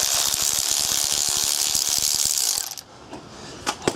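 A ratchet wrench rapidly clicks for about two and a half seconds while undoing a 10mm bolt on a car's clutch slave cylinder, loud and close, then stops and leaves a few faint clunks.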